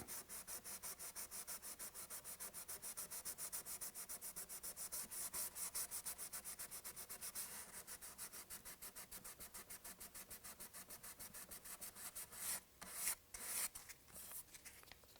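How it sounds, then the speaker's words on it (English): Long, steady back-and-forth strokes of 320 grit sandpaper over a leveled lacquer drop fill, a close, rhythmic scratchy rubbing that holds an even pace, then a few heavier, irregular strokes near the end; no voices. "take some 320 grit sandpaper and then sand it"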